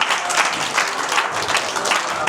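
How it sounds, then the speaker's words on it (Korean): An audience applauds after a hospice volunteer training lecture, a steady dense clapping that fills the room at moderate volume throughout. "다시 한번 큰 박수 축하드립니다."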